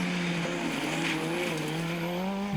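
A Mitsubishi Evo rally car drives through Ashley Forest on a rallysprint stage, its engine droning loud and steady at high revs with a sustained, slightly wavering note throughout.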